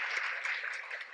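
Audience applause at a regional discussion on maternal and child health in St. Louis, a steady wash of clapping lasting about a second at moderate distance, with no talk over it.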